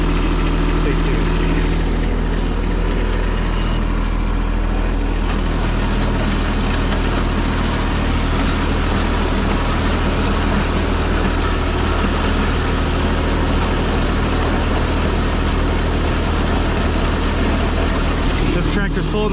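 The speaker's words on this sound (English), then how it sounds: "Tractor's pulling this plow downhill with no problem. Coming uphill is a little bit different story." A tractor pulling a plow uphill on a flood-damaged driveway gives a steady, loud, labouring engine drone with a constant low hum that lasts throughout.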